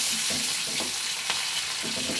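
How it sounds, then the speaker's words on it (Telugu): Tempering spices fry in hot oil with a constant hissing sizzle close by, and soft crackles pop over the steady roar. "అదే నూనెలో తాలింపులు కూడా వేసేసాను"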